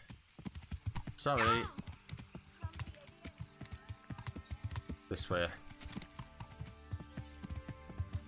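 Hooves clop steadily as a horse is ridden in the medieval game Kingdom Come: Deliverance, a rhythmic, close series of hoofbeats broken by two loud whinnies, with someone speaking briefly over it.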